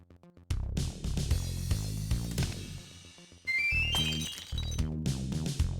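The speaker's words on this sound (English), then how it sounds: "Chirp can shatter ice without damaging what's inside" Ice shattering in the Club Penguin video game, triggered by a song, comes through as bright glassy cracks and clinks over a busy musical backing, with a sharp burst of breaking near the middle.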